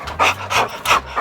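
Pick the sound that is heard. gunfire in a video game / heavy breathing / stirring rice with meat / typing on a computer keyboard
heavy breathing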